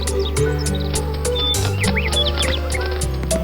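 Bright bird chirps and tweets dart over a steady background of music, close and fairly clear across the few seconds.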